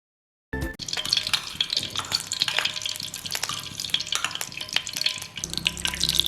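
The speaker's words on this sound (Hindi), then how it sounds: "गरम घी के अंदर प्याज ऐड कर रही हूँ।" Onions hit hot ghee and fry with a steady close sizzle for pulao, stirred with scattered scraping clicks and crackles throughout, no talking.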